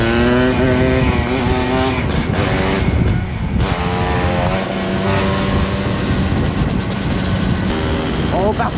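A motorcycle revving hard through a wheelie, its loud engine rising and falling in pitch close to the microphone, with a voice talking over it.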